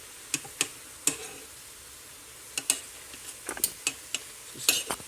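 Beef sears in a pot over a backyard BBQ pit, heard as scattered sharp clicks and scrapes of a utensil moving the meat against the pot, with a faint sizzle underneath.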